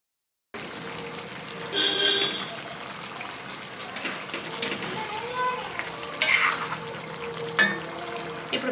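Eggs cooking with ridge gourd are turned in a hot pan, giving a steady sizzle and frying hiss with scraping stirs and a few louder clatters of the utensil.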